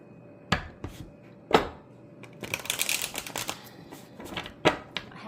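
Tarot cards shuffled by hand nearby: a few isolated taps and slaps, then a dense burst of rapid riffling and flicking, ending with a couple of sharper card knocks, with no talking.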